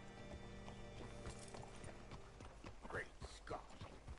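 Horse hooves clip-clop at a walk in the Red Dead Redemption 2 video game, followed by a short whinny near the end, with character voices talking over it and background music.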